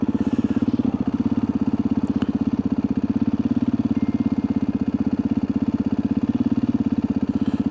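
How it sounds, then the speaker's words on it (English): A motorbike engine idles steadily up close with an even, fast-pulsing throb that stays constant throughout, loud and alone, with no talking. "So we'll park the bike up now"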